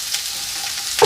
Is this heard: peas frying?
yes